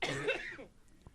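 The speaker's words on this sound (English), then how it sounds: "Sorry about the coughing" A single close, harsh cough with a throaty, raspy burst from someone who is sick, fading quickly into quiet.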